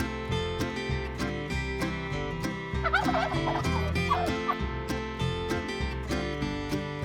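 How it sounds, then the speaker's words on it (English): A farm turkey gobbles in repeated bubbly bursts set against a rhythmic musical backing with a steady beat, the gobbling clear and prominent mid-clip. "Turkey."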